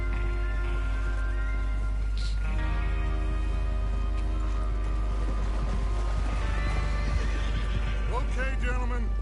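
Horses in Red Dead Redemption 2 whinny loudly and repeatedly as hooves clip-clop beneath, with a constant low rumble and musical score under the scene and a voice briefly heard among the animal calls.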